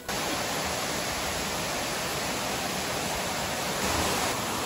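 Steady, dense roar of a waterfall at Jardim das Deusas, a broad unbroken rush of falling water heard close and loud throughout, with no voices.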